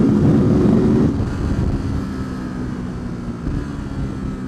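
Ducati SuperSport with its 937 Testastretta twin engine ridden hard on a race track, a loud, steady throbbing drone that eases slightly after the first second and holds near and continuous.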